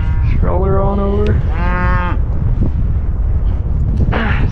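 A calf on a cattle farm moos twice in close succession, loud and near, then a third short call follows after a pause, with wind buffeting the microphone throughout.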